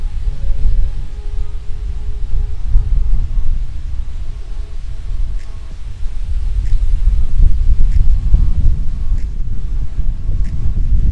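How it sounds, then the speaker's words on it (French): Wind buffets a microphone outdoors in Hyde Park, London, making a steady low roaring rumble that swells and eases across the whole stretch, with no voices. "Le vent, enfant de Dieu, le vent."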